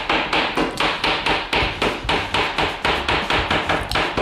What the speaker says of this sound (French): Prends un marteau et viens faire ça